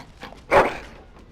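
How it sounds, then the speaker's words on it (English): A single short dog bark with a slight whine, rising loud around the middle of the moment over a quiet game background, in the fantasy role-playing game Dragon Age: Origins. "Bloody dog."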